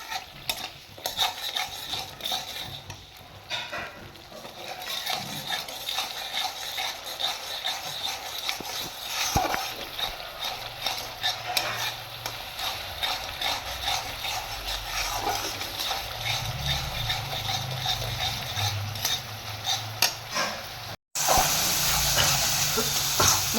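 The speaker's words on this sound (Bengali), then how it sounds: "আর মশলাটা আমি ভালোভাবে কষিয়ে নেব, তাতে টমেটো আর কাঁচা লঙ্কার কাঁচা গন্ধটা চলে যায়।" Spice masala with tomato and green chilli fries steadily in oil in a pan for a fish curry, a continuous sizzle with repeated scraping stirs of a spoon, close and even throughout.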